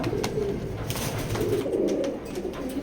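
A black pair of racing pigeons coo nearby in a loft, low rolling coos continuing steadily amid light background noise and faint chirps.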